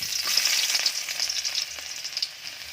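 Garlic frying in palm oil for mushroom adobo, a bright crackling sizzle up close that stays busy before easing slightly near the end.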